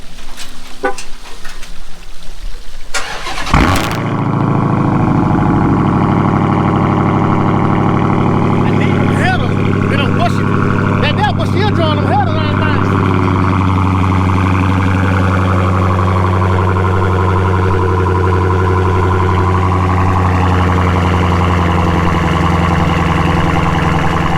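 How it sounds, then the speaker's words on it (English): A 2019 Dodge Challenger Hellcat Redeye cold-starts in a driveway: a short burst of noise, then a sharp start into a loud, steady, droning high idle that holds for about twenty seconds close by. "Let's see what that cold start sound like"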